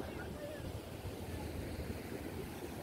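Surf rolls in at a south coast beach in Indonesia as a dense, continuous low rumble of large waves with wind noise. It sounds fairly distant and steady throughout.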